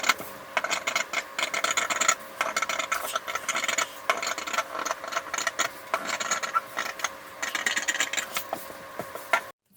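Scissors trim fabric sleeve lining to size, giving close, rhythmic rasping snips in repeated bursts with short pauses between them, and no speech.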